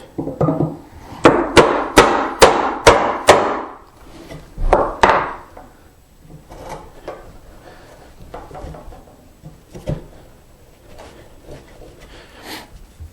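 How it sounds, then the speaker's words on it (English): A chisel strikes a wood mortise in a quick run of about eight sharp knocks, then softer scattered taps and scrapes follow as chips are pried loose, close and clear. "What I'm trying to do now is pry my chips into the center of the mortise so that I don't round over and damage the ends of the mortise."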